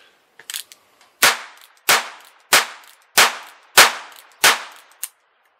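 Nail gun blanks fired from a revolver: a few faint clicks, then six loud, sharp cracks in quick, even succession, each with a brief ringing tail.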